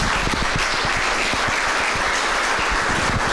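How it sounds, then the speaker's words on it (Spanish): A congregation at a church sermon breaks into loud, dense applause, sustained and filling the room for the whole few seconds without speech. "Dale un fuerte aplauso al que vive en esta hora."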